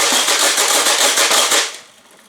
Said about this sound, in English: This is a gun that holds 30 discs inside of it and you just basically go crazy.